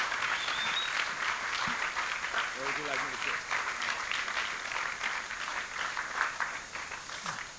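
An audience welcomes a rapper onto the stage at The Black Archives event, a faint, steady spread of clapping with a few brief voices and whoops in the crowd.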